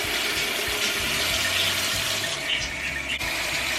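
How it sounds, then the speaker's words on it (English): Warm water pours steadily from a sink tap, a loud, close, continuous hiss and splash with no pauses and no talking. "So I'm going to turn the water on, not cold, not hot,"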